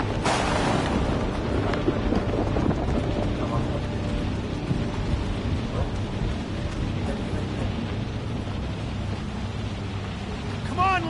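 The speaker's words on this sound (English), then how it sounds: "The storm's getting worse!" A loud, steady roar of heavy rain with rumbling thunder fills a video game thunderstorm scene, wide and continuous throughout with no breaks.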